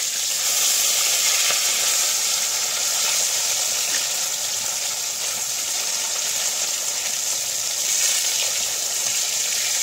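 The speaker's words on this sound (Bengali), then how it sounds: "বন্ধুরা কিছুক্ষণ ভাজার পরে আমরা এবার মাছটিকে উল্টে নেব, যাতে অপর সাইডটাও ভালোভাবে ভাজা হয়ে যায়।" Rui fish fries in oil over a clay stove, giving a steady, dense hiss and sizzle that stays even and fairly loud throughout, with no talking.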